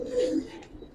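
A male Giribaz pigeon with a red iris gives a soft, low cooing burst close by, fading quickly within a second.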